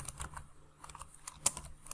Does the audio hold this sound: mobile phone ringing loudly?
no